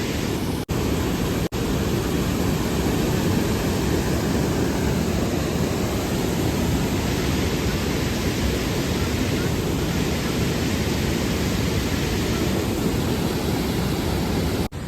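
Water roaring at a dam in Amravati district: a loud, dense, unbroken rushing roar that fills the whole span, near and steady, with no clear voices above it.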